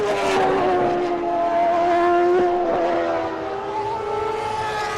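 A CART race car at the 2002 Cleveland qualifying session screams past with a sustained high-pitched engine whine that rises then drops in pitch as it nears and recedes, loud and alone.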